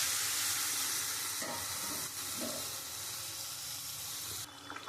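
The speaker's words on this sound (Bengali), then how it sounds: "এবার আমি পরিমাণ মতন জল দিয়ে দেবো।" Water poured into frying spiced masala for a rita fish and potato curry, giving a steady hiss and splashing sizzle that gradually settles, close and continuous, without speech.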